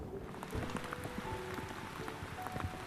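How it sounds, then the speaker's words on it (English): Rain falls in the video game Lake Ridden, a soft steady patter with scattered drip taps, faint and close, without any voices. "Yeah, it's raining."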